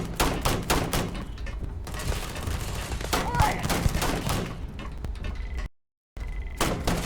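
Sci-fi gunfire in Starfield combat: rapid bursts of shots in a dense, loud volley that runs continuously, breaks off in a brief silence, then resumes.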